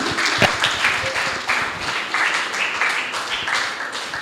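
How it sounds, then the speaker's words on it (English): A crowd applauding, dense clapping that holds steady for several seconds, fairly close and loud. "A round of applause for you."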